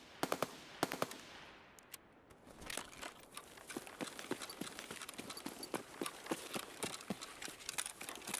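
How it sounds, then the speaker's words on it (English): AP 366 rounds fired in Escape from Tarkov, heard as a few sharp close shots followed by long runs of rapid distant cracks and pops over a quiet ambient bed. "this guy's shooting AP 366 APM, dude"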